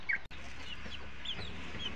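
Chickens, vaccinated backyard fowl, cluck softly in a few short, scattered calls over a steady low background hum, with no one talking.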